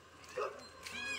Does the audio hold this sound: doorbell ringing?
no